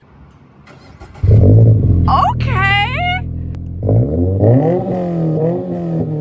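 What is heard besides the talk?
car axle-back exhaust revving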